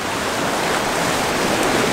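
Waves break against rocks on a lighthouse shore at blue hour, a loud, continuous broadband wash of surf close by with no voices.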